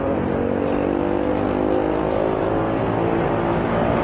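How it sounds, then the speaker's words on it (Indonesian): A car engine fitted with a loud racing exhaust (knalpot racing) and no silencer drones steadily at close range, a continuous rough rumble with little change in pitch. "kalau nggak pakai silencer ya suaranya pasti lebih berisik dong."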